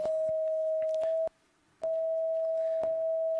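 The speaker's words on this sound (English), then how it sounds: "this is the sound of purple." Steady electronic sine-like tone from a cyborg antenna's color-to-sound conversion, representing purple, held almost continuously with a brief gap near the middle and faint clicks; clear and alone, no talking.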